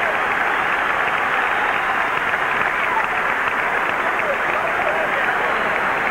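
A large stadium crowd cheering and applauding for George Brett at Arlington Stadium during the final game in October 1993, a sustained, roaring wash of noise that stays steady and loud throughout.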